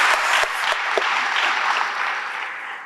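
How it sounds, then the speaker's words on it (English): Audience applause at a conversation event with former President Thabo Mbeki, a dense, sustained wash of many hands clapping that holds steady and slowly tapers, with no talk over it. "Please give her a round of applause."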